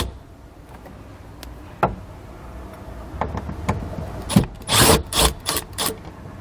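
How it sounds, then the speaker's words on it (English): A Phillips head screwdriver removes a screw behind a vehicle interior panel, giving faint scattered clicks and scrapes that build into louder rubbing, rattling bursts toward the end. "That will reveal the screw behind it that we need to remove with a Phillips head screwdriver."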